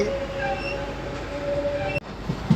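A MEMU passenger train running on the Narasapur to Machilipatnam line, with a steady loud rumble of wheels on rails and a faint high squeal heard from inside the moving train.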